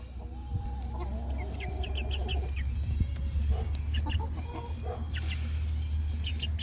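A flock of hens clucks continuously nearby, with repeated high chirps and squawks as the birds settle their pecking order, over a steady low hum.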